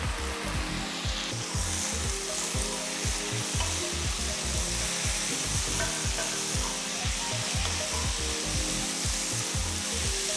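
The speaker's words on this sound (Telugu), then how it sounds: "నెక్స్ట్ ఇందులో తరిగిన నాలుగు పెద్ద టొమాటోల్ని వేసుకోవాలి" Four large chopped tomatoes and slit green chillies fry in a pan for a street-style non-veg meal, giving a loud, steady sizzle with rhythmic scraping stir strokes throughout and no voices.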